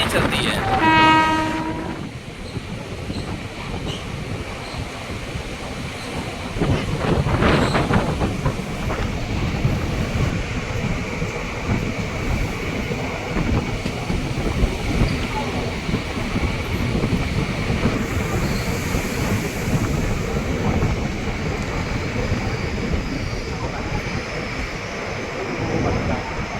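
A passenger train rolls steadily along the Bhatni–Salempur–Barhaj line at slow speed, its horn sounding near the start amid continuous wheel and carriage rumble that stays loud throughout.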